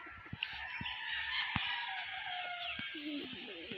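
A busy chorus of chickens clucking and calling nearby, with a few sharp knocks and scratches in the foreground.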